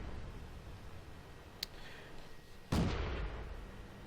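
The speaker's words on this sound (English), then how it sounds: "if I take a shot with this tank, like I'm going to aim for this bush right here, we'll find a tank." A single artillery shot from an M41 HMC self-propelled gun in World of Tanks: a faint click, then one sudden, fairly loud boom that rolls off into a fading rumble over quiet background hum.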